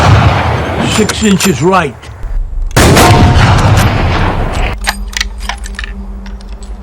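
Rifle shots at a long-range shooting range in a film scene, loud sharp cracks with booming reports, mixed with a voice speaking and a dramatic music score.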